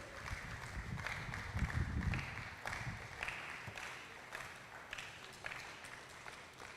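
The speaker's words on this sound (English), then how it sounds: "Please keep on clapping" Audience clapping at a Nigerian student conference, the Future Conference in Edo, sustained and fairly close, with scattered louder claps rising and falling over the steady patter.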